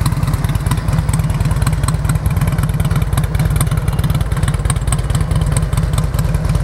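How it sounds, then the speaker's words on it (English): A carbureted 2003 Harley-Davidson Road King FLHR with fishtail exhaust tips idles loud and close, its deep, steady rumble carrying a slight lope throughout. "I like the way a carbureted bike sounds."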